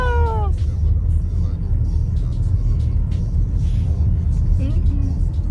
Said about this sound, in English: So we're in traffic right now